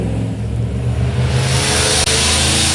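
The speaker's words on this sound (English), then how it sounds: "Somebody on the next street has a motorcycle, I think." A motorcycle engine on a nearby street revs, a loud steady roar climbing in pitch and holding, with no talking.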